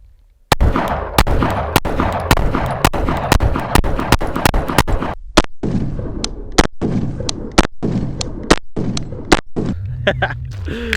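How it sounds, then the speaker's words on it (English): A Springfield Hellcat Pro pistol fires a rapid string of about ten sharp, loud, close shots, with ringing echo between them, followed by a few scattered shots. "I have the Springfield Hellcat Pro L SF in my hands with 10 rounds in this magazine."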